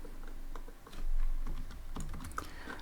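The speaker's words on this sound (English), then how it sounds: "Let's type again print" Quick, light keystrokes tap on a computer keyboard in a quiet room during a Python programming session, an irregular close patter of clicks with no talk.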